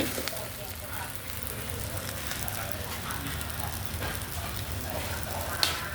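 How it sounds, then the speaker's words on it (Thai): Fried rice with mixed ingredients sizzling and crackling in a hot pan as it is stirred, a steady close, moderately loud hiss with scattered pops, and a sharp clink near the end. "ได้ยินเสียงเขาแตกบ่อ่าเขาสีดังป๊อแปะป๊อแปะป๊อแปะ"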